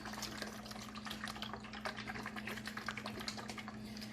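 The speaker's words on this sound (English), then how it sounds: "Put my lid on, nice and tight, and shake it up." A homemade calm-down sensory bottle filled with oil and water is shaken, giving a steady rapid sloshing and rattling of liquid close by, with a low hum underneath.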